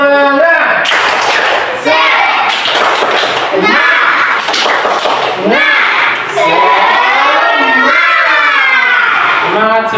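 Fourth-grade Indonesian schoolchildren repeat the tepuk semangat clapping chant together. Crisp patterned handclaps mix with their loud sung and shouted chanting in unison, close by, in a steady rhythm.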